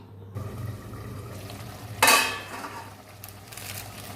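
A metal lid is set onto a pot of rui fish curry, giving one short clatter midway through a quiet kitchen with a low hum underneath.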